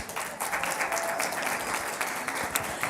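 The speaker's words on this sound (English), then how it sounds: "give them a round of applause" A crowd at a monthly board meeting applauds the outgoing board chair and vice chair, a brief burst of steady, fairly close clapping with no talk over it.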